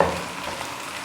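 Tomatoes with green chillies and spices fry in a hot pan, giving a steady, close sizzle that holds without a break.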